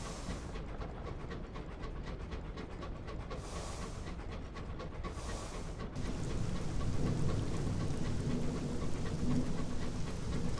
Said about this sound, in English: This rain sound.